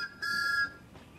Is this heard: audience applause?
no